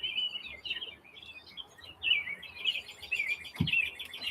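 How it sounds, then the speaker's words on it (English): Small birds chirp outdoors, with quick high tweets repeating in short bursts against quiet background air, faint and somewhat distant, plus one brief low thump near the end. "You hear them birds over there chirping?"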